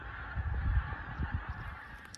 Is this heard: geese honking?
yes